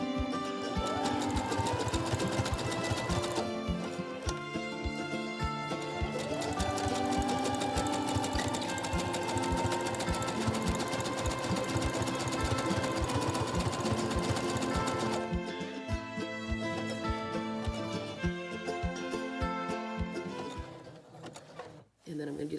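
Sewing machine stitching a window valance, a rapid steady motor whir with needle clatter that runs continuously, then stops as the fabric is lifted and turned, with brief clicks and handling noise near the end.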